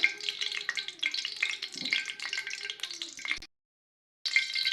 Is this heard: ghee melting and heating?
yes